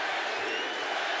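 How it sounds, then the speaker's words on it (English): A Glendale arena crowd roars steadily during a UFC fight between Justin Gaethje and Dustin Poirier, a dense, continuous wash of cheering with no breaks. "Glendale crowd getting behind one of their own, Justin Gaethje"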